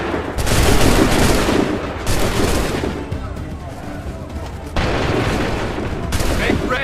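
Musket volleys from massed soldiers in Assassin's Creed 3, loud rolling gunfire crackling over several seconds, surging again after a short lull, with a booming battlefield din throughout.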